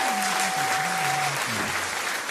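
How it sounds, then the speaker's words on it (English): A studio audience on a morning show breaks into steady applause at a fairly close range. The clapping holds at an even level throughout, and a faint tone with some murmuring voices sits underneath it. "Y'all deserve a major round of"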